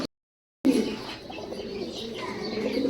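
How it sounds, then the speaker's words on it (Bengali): Pigeons kept in a loft with eggs and chicks, among them a black-tailed male and a silver-tailed female, coo in soft, low, overlapping murmurs close by after a short silent gap at the start. "আজকে ভিডিওতে অসংখ্য ডিম বাচ্চা সহকারে কবুতর থাকবে"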